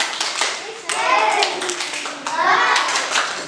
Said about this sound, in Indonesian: kasih tepuk hebat buat kalian semuanya